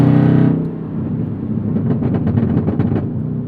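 A Camaro engine drones in a low, steady rumble as its exhaust breaks into a quick, irregular run of sharp crackles and pops partway through, loud and close.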